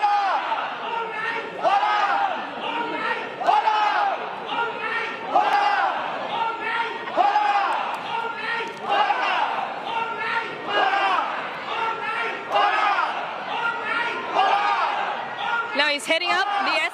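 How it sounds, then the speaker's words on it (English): Crowd cheering for Tharman at the 2023 Singapore Presidential Election, loud rhythmic chanting and shouting repeating in waves close by, with voices mixed throughout. "People are happily cheering for him."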